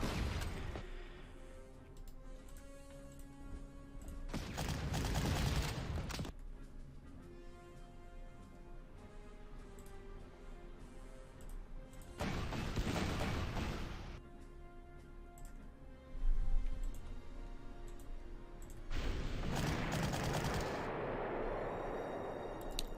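Heavy booming gunfire from the video game Panzer Corps, three separate loud blasts spaced several seconds apart, each a broad crashing burst over a low ambient game soundtrack.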